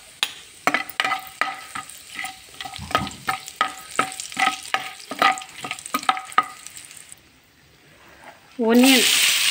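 Ghee sizzles in a pan while making paneer curry, with a spatula scraping in quick rhythmic strokes over steady crackling frying, then a brief burst of louder sizzle at the end.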